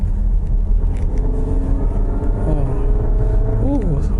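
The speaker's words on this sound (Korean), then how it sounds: "카랑카랑한 엔진음이 들리네요" A Volkswagen Tiguan Allspace seven-seat gasoline car accelerates, its engine giving a steady, rumbling drone heard from inside the cabin, with brief voice fragments near the end.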